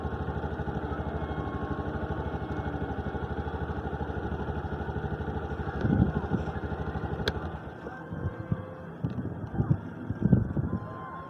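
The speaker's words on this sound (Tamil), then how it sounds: "2 போட்டும் அப்படி ரேஸ் பண்ணிட்டு இருக்காங்க" Two racing boats speed across the water at Periyathalai, a steady, fairly distant motor drone with wind buffeting the microphone and some rougher bursts toward the end.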